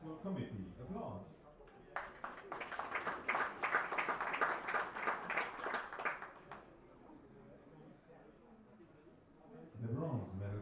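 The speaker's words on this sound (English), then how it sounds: "Applause." Crowd applause at a women's 25m pistol shooting World Cup medal ceremony in Munich, a broad steady clapping swell lasting several seconds, loud and fairly near, then fading, with announcer speech before and after.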